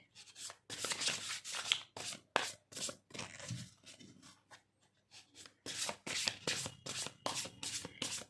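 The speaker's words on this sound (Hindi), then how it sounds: "पहले मैं कार्ड्स निकाल लूँ, उसके बाद बात करते हैं।" Tarot cards are shuffled and drawn by hand, giving repeated brisk riffling and rubbing bursts in an uneven rhythm, close and fairly quiet, with no talk.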